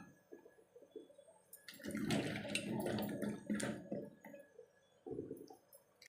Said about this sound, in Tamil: இந்தமாரி நல்லா அழுக்கு போக அலம்பணும்.